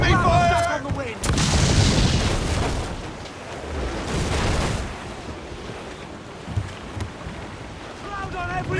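Enemy cannon fire strikes during a naval battle in Assassin's Creed Black Flag. Heavy booming blasts come in several broad bursts over wind and sea noise, while crew members shout orders throughout.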